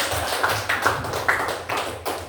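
Classroom clapping for a pupil, a few loose claps over steady room noise, moderately loud and somewhat uneven in rhythm.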